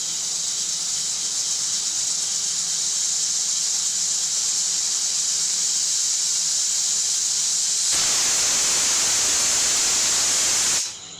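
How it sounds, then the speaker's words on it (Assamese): A pressure cooker boiling potatoes lets out a loud, sustained hissing steam whistle that holds steady, then surges brighter and louder for a few seconds before cutting off abruptly. "আলু হৈ গৈছে, 4টা চিটি মাৰিলে দেই আলু।"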